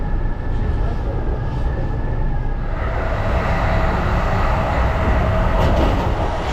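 A crowded passenger train heard from inside while moving, with a steady rumbling roll and rail hum that grows louder partway through and murmuring voices in the background.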